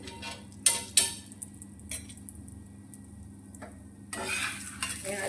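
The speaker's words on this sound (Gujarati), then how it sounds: "પૂરણપોરી આપણી નીચેથી શેકાય છે તો ઉપરથી આપણે આ રીતે થોડું ઘી લઈ અને ઉપર લગાવી લઈશું" A Gujarati puran poli (vedmi) roasts on a griddle as ghee is added, giving a soft sizzle with a few sharp taps of a utensil and a louder hissing burst near the end.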